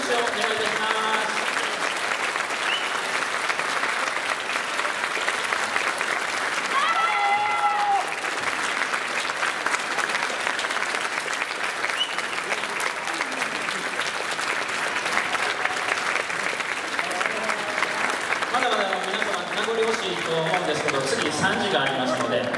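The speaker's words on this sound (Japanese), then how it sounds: "大きな拍手をお願いいたします" A large crowd applauds a high school brass band at a shopping-mall stage show, sustained dense clapping filling the space while an announcer's voice speaks over it.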